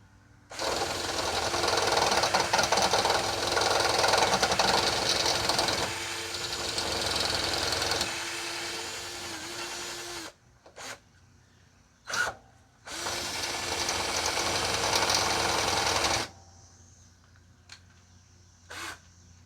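An electric drill bores into a part from a Toro Timemaster mower, using oil on the bit. It gives two long loud whirring bursts with short trigger blips between them, then stops, and the drilling sounds close by.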